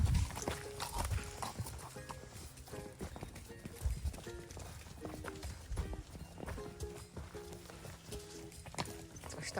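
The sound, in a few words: horse galloping, hooves clip-clopping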